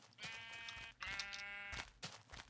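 Minecraft sheep bleating in the blocky video game: two long, wavering bleats close together, then a shorter one, loud and clear with no talking.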